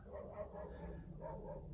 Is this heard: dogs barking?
yes